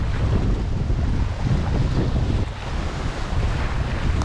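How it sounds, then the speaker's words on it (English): Strong wind on a lake buffets the microphone with a loud, constant roar, while choppy waves wash and slap underneath. "Today it's really fucking windy"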